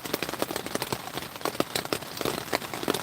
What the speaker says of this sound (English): I'm going to be able to fall asleep to the sounds of the rain on the tent.